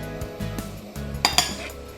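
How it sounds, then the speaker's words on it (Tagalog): Flour is stirred into hopia dough mixture in a bowl, heard as a few scraping strokes and a couple of sharp clinks of utensil against the bowl, close and brief. "haluin mo lang siya hanggang maging parang dough na siya yung consistency"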